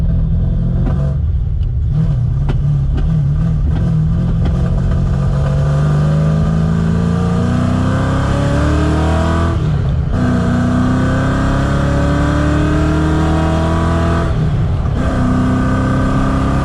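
A 331 stroker V8 in a Fox body Mustang revving hard up close, loud continuous engine roar with rising pitch sweeps and a couple of brief dips where the throttle lifts.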